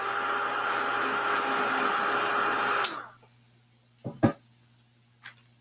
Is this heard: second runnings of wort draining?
no